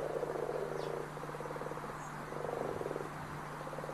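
Frog croaking in steady pulsed bursts that come and go, a rhythmic rattling call over a low background hum with faint insect chirps, fairly near and moderately loud.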